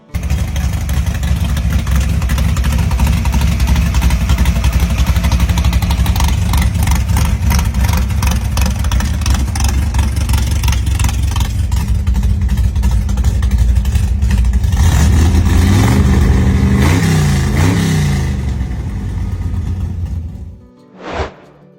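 A custom pro street car engine rumbles loud and close, a heavy, pulsing idle that rises into several revving swells near the end before cutting off abruptly.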